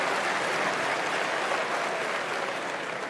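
Crowd at a 1994 Berkshire Hathaway annual shareholders meeting breaking into applause, a dense, steady clapping from a large audience that fills the short stretch without any talk over it.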